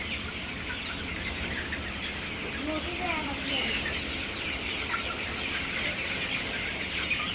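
Sonali hybrid chickens cluck and chirp softly amid steady background noise as a flock is pushed to one side of the pen, with faint overlapping calls rather than distinct loud squawks.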